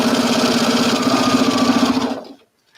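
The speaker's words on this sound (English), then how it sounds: "I'm just going to take and sew it with a 1/4 inch seam" A sewing machine runs a quarter-inch seam with a steady, close mechanical hum and rapid needle chatter, then stops abruptly, leaving near silence.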